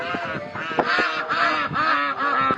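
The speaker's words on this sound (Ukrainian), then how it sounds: "Це качки сміються." Several ducks quacking in a noisy, overlapping chorus of nasal honking calls, close and loud, continuing steadily.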